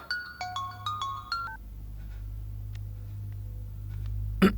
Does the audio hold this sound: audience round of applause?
no